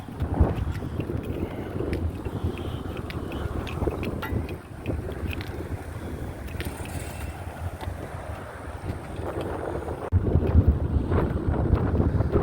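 Outdoor wind buffeting an open microphone during a walk, continuous low rumbling gusts that swell louder near the end, with no talking.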